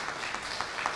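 Steady wash of press audience applause at a government briefing, even and moderately faint throughout with no voices standing out.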